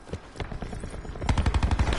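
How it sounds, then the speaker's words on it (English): Video game gunfire crackles in quick bursts, sparse at first and then turning into a loud rapid volley near the end. "Oh my god, I got shot in the ass and the knees."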